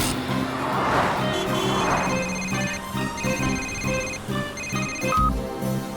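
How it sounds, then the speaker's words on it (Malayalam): A telephone rings in a children's cartoon, its repeating electronic ringtone pattern sounding clearly and continuously at close range with no talk over it. "ആ ഫോൺ റിംഗ് ആവുന്നുണ്ട്."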